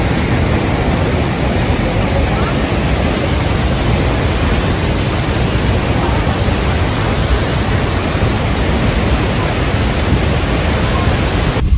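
Heavy flow of the Bhedaghat waterfall, a constant, dense roar of falling water, loud and close, steady throughout without pauses or clear speech.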